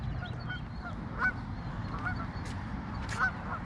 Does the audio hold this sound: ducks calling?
yes